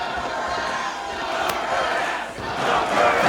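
A wrestling crowd at a Beyond Wrestling match cheers and roars in a dense, loud wall of voices that swells toward the end.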